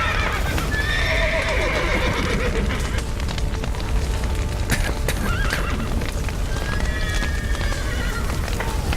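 Horses neigh and whinny several times over steady hoofbeats and a continuous rumbling, busy background in The Witcher 3 video game, with no talking.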